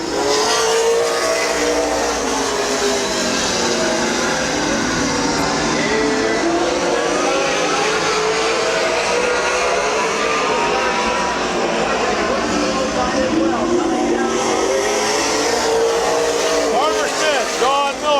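Race cars roar around the oval at Midvale Speedway on the final lap, a dense, continuous engine drone with rising and falling pitch as cars pass, while an announcer talks over it throughout.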